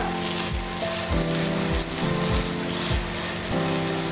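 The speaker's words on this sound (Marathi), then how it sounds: "आता या साईडला सुद्धा आपण थोडंसं एक ते दीड मिनटं व्यवस्थित भाजून घेऊया" Dahi bread toasting in a hot pan, a steady sizzle running throughout with a low rhythmic thumping from pressing, no voices.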